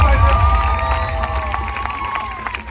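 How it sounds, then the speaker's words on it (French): A crowd at a U15 final event claps and cheers loudly, with voices ringing out over the applause. "j'aimerais qu'on les applaudisse tous les 3 bien fort"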